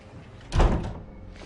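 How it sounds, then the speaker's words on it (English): A door swings shut with a single firm, heavy thud close by, then quiet room tone. "Close the door."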